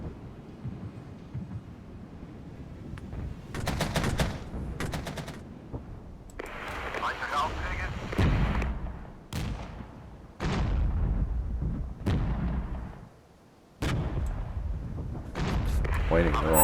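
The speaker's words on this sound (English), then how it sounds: "I had an artillery strike." An artillery strike in the Regiments strategy game, with heavy booming blasts and rattling bursts in uneven clusters, loud and close, with pauses between, under a continuous battlefield din.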